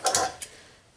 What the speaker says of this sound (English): My Nipex don't ratchet, so it takes me a minute to get them